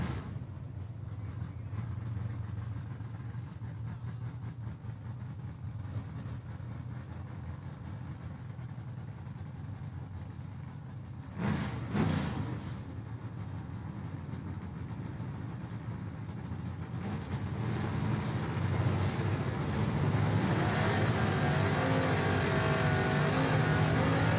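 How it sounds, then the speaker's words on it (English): Gasser drag cars, including a 1956 Chevy, race at a dragway, heard as a continuous engine roar with a brief louder burst midway and a rising, heavier rumble near the end. "Good drag race here, and Bryant Dalton prevails on the big end right there"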